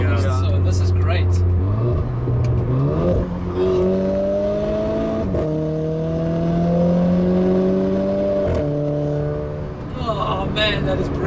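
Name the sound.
modified Renault Clio RS 220 Trophy engine and turbo whistle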